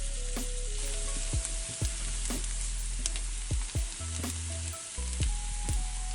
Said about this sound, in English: Onion in. Fry until it's translucent.